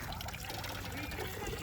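Water gushing steadily from a hand-operated borewell pump, a continuous splashing flow heard close up for a brief moment.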